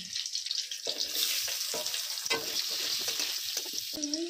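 Chopped onion, green chilli and a bay leaf hit hot oil in a wok, giving a steady loud sizzle and crackle with occasional stirring scrapes, close and continuous.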